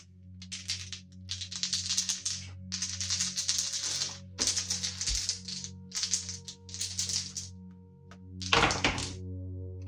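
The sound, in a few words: dice being thrown in the board game Too Many Bones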